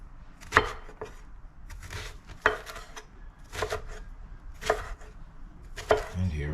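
A knife chopping eggplant on a cutting board, five sharp, distinct cuts spaced about a second apart over a soft background rustle, close and fairly quiet with no talking.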